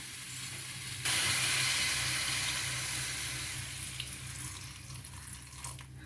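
Water is poured into a simmering pan of bottle gourd and groundnut curry, a loud steady hiss and splash that starts suddenly and then fades gradually, with no talking.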